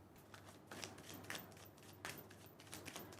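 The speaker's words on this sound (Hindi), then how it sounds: "अच्छे से शफल करना ज़रूरी है," Tarot cards being shuffled by hand, soft repeated riffling bursts at close range, quiet and alone.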